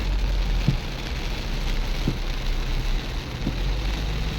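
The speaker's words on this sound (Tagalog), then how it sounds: "Grabe, palakas ng ulan." Heavy rain pours in a steady, dense hiss with a low rumble beneath, heard from inside a minivan on the road, a few faint thumps breaking through the constant downpour.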